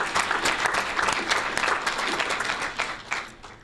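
Applause fills a board meeting room, a steady round of clapping from the attendees held at an even level throughout, with no talking over it.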